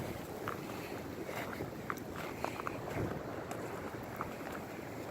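Strong outdoor wind on a windy day, a steady, loud rushing roar with faint rattling and knocks beneath it.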